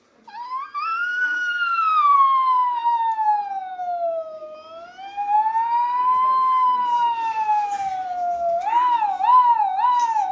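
A voice at a primary school imitates an ambulance siren: a long, loud rising and falling wail, close by, finishing with a quick warbling yelp.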